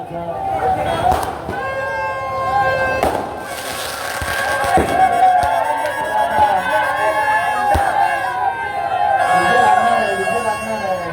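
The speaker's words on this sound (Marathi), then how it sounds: "आता आपण फटाके वाजून समारोप होतोय कार्यक्रमाचा" Firecrackers pop and crackle in bursts amid a noisy outdoor crowd at a Dahi Handi festival event, with loud voices over music-like tones.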